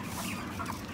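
Broiler chickens, Cobb 500 at 39 days old, cluck softly in a brief burst over a busy, noisy poultry house background.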